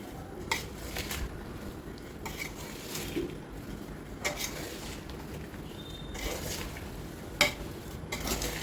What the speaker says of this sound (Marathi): आणि सगळ्या फोडींना मसाला लावून घ्यायचा आहे मिक्स करायचा आहे व्यवस्थित